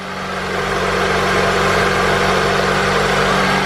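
A Honda CR-V with a B20B engine idles steadily while warming up after a timing belt and valve adjustment job, a loud, even, continuous hum with a low throb running unbroken throughout.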